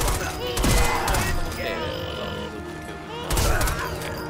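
Rapid gunfire in the video game Sniper Elite 4 during a co-op survival match: dense bursts of shots, loud and close, a heavy volley at the start and another near the end, with a player's voice talking over it.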